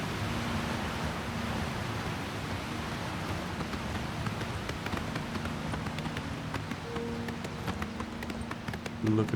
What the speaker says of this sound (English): Look at my horse